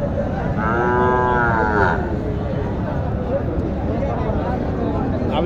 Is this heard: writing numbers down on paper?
no